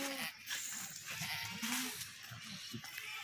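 A female goat bleats several times in short wavering calls amid a noisy livestock market, with other animals and faint voices in the background.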